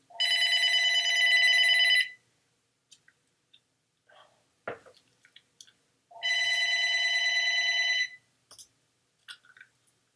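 A phone rings for an incoming call in two electronic bursts of about two seconds each, separated by a pause with faint small clicks and handling noises.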